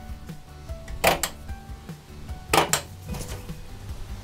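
Cabinet doors and a drawer on a race day trailer are opened, giving two loud clattering bursts of wood and hardware knocking, about one and a half seconds apart, over low background noise.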